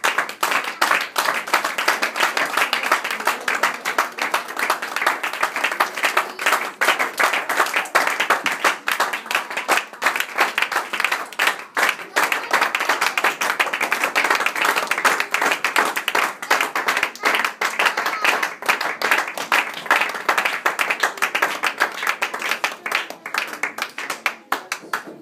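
A church congregation applauds for the Lord, dense sustained clapping from many hands that stays steady and loud throughout.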